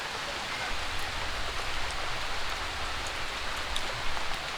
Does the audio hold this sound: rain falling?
yes